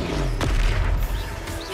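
A Confringo blasting spell explodes in Hogwarts Legacy with one loud booming burst, set in a dense, rumbling battle din.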